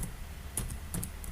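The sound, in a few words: typing an address on a computer keyboard in Tally ERP 9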